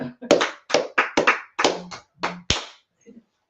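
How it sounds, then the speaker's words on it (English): A run of about eight sharp hand claps in an uneven rhythm at a gathering, close and punchy with brief gaps between, then a couple of faint taps as it stops. "Let's clap it up for class"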